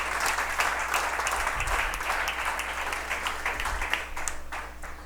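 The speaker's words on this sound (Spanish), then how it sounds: "Fuerte ese aplauso para el Señor." A church congregation applauds steadily for about five seconds, a dense, continuous clatter of many hands that holds at an even level from start to finish, with no one talking over it.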